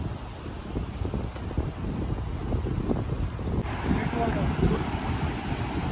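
Cold outdoor wind gusts buffet the microphone in a steady rumbling roar while riding atop a Safari Storme off-road vehicle near a river, with a person talking over the continuous wind noise.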